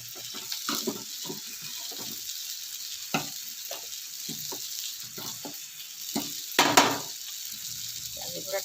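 Spices for a baghar sizzle and crackle in hot oil while kanji is tempered, a steady close frying hiss with scattered pops and one louder flare of sizzling near the end.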